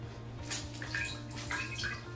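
Rice water splashes and plops from rinsed hair into a bowl in scattered drips and small pours, soft and close with a faint background hum.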